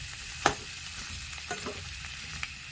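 Potatoes frying in a pan and being stirred, a faint steady sizzle broken by a few sharp spatula scrapes and taps.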